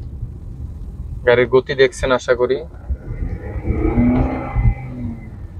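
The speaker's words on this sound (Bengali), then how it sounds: "হ্যাঁ, গাড়ির ইঞ্জিনে নয়েজ প্রচুর বাড়তেছে" A 2016 Nissan X-Trail NHT32 hybrid with a gearbox fault, driving while warm, its engine giving a steady, rising low drone and road rumble beneath a voice, which speaks over the first half.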